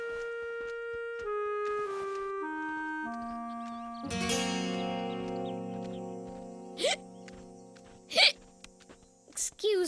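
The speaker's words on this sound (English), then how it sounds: "I know what cures hiccups." A cartoon character hiccups several times, with sharp, loud hiccup bursts spaced a second or two apart over a background of sustained musical tones.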